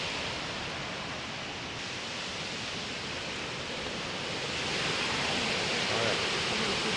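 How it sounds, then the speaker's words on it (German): The Travignolo mountain stream rushes through a gorge in the Dolomites, a steady, loud broadband roar of water that fills the whole stretch without pause and swells slightly toward the end. "Man hört jedenfalls das Rauschen schon."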